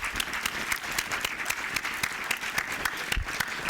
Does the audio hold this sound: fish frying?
no